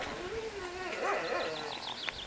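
A chihuahua outdoors gives high, wavering whimpers and whines, with a short yip near the end, loud and close.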